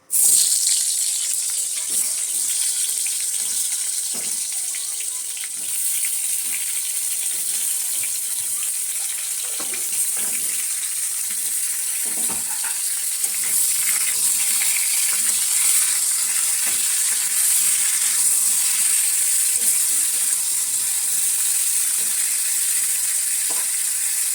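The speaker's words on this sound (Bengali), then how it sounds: "এরপরে কড়াইতে এগুলো একটু ভেজে নিচ্ছি।" Salted, turmeric-coated potato and pointed gourd pieces fry in oil in a wok, giving a steady, bright hiss that runs unbroken throughout with occasional soft stirring clicks and no voices.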